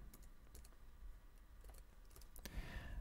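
Keys clicking on a computer keyboard as a button label is typed into a LibreOffice macro dialog: a quick, quiet run of light taps close to the microphone, with no talk.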